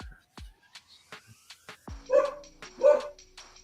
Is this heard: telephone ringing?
no